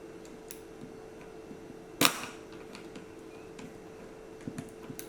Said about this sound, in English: So I'm just going to wind on a couple of times just to bring non-exposed film into the chamber.